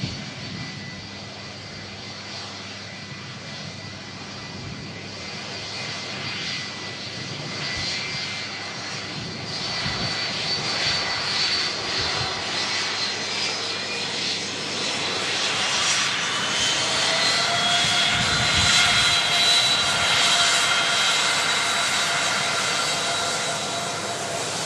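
Rolls-Royce RB211 jet engines on a classic airliner vacating onto a rapid exit taxiway, a loud sustained whine and roar that builds steadily and grows louder toward the end, close by with no talk.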